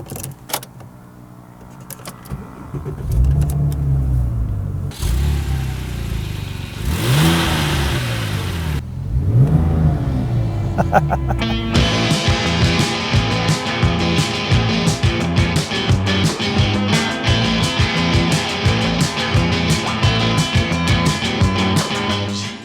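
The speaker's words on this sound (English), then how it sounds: "Just driving very slowly is already an amazing experience because the engine is really like far back." A Porsche 997 Turbo automatic, rear-engined, driven slowly, its engine a steady mid-range drone with gentle swells of revving throughout and a faint jingle of keys, no talk over it.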